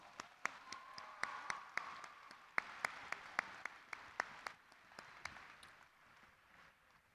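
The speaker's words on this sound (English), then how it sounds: "let's give these chapters one more round of applause" Applause at a state FFA convention session fills the hall for exiting chapters, a soft wash of many hands with sharp, distinct claps standing out near the front before fading.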